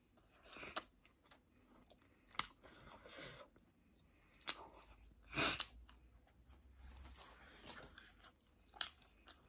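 Close, crisp crunching of fried fish bones being chewed, a few sharp crackling bites spaced irregularly over soft mouth sounds.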